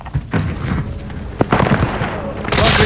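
Rocket explosions and gunfire boom during Call of Duty: Modern Warfare multiplayer hardpoint combat, with several bursts and blasts mixed under game voice callouts, the last burst loud and close.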